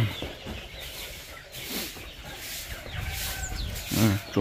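Chickens cluck softly on a farm in scattered, irregular bursts, fairly faint, with one louder burst of calls near the end over low background noise.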